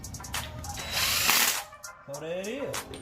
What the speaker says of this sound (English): I'm gonna go back through with my ratchet